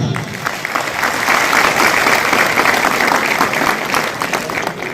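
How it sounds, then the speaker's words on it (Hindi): A room full of people claps enthusiastically, steady loud applause that rises quickly and holds for several seconds. "एक जोरदार ताली"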